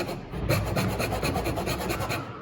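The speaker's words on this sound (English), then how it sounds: "you're going to saw the entire length of the blade" Rapid back-and-forth rasping strokes sawing along the entire length of a blade, close and continuous, with a steady scraping rhythm.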